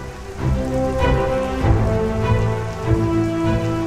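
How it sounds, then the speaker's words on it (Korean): Heavy summer rain pours steadily onto open tundra in a dense, close hiss of drops. A continuous low drone runs underneath, with no voices. "갑자기 비가 내리네요."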